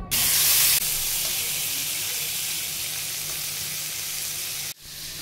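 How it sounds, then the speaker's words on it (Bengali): Shrimp coated in salt and turmeric fry in hot oil, a loud continuous sizzling hiss that stays steady throughout, with a sharp burst at the start and a brief break near the end. "এরপর নুন হলুদ মাখিয়ে চিংড়ি মাছগুলো ভালো করে ভেজে নেব"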